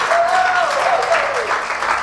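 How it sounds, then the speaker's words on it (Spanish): A church congregation gives a loud, sustained round of clapping at a Sunday service, with a voice rising through the applause. "denle un aplauso al Señor"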